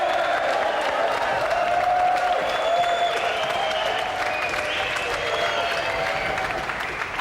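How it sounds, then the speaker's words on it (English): A television studio audience applauds champion Chef Ron Hart on a games show, a dense, steady wall of clapping with some cheering that carries loudly through the whole stretch without letup. "Another round of applause for our champion"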